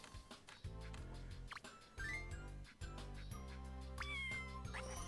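A cat in the Scribblenauts video game gives several meows over a plucked, bouncy game soundtrack, with clear separate calls at moderate volume.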